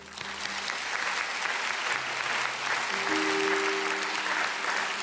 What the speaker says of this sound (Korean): 이제 박수 쳐야 돼 이건